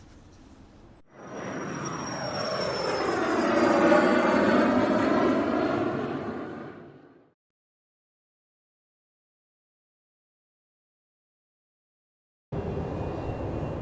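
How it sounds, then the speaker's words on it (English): A KLM Boeing 737-900 airliner on final approach at Manchester Airport: a loud engine roar swells, peaks and fades away as it passes, followed by silence, then another steady rumble starts near the end. "737-900 is on its final approach"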